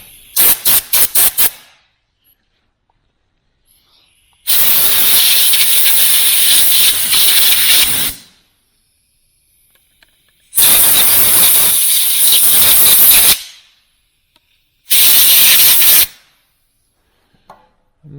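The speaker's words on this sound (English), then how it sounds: "you want to blow out these air holes, these lubrication holes here for the bar" Compressed air blasts through the bar-oil lubrication holes of a STIHL 025 chainsaw, with a quick run of short puffs, then three long loud hissing bursts separated by silence.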